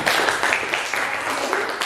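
Classroom students applauding a classmate after her reading during a teaching session, a dense, lively patter of many hands clapping at close range with little talk.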